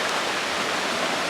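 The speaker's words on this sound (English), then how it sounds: "we are still getting poured on" Heavy rain pouring down during a storm on a homestead, a dense, steady hiss of loud rainfall with no breaks and no voices.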